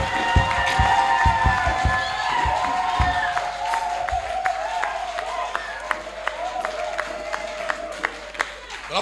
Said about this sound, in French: Acclame pour les miracles de Dieu.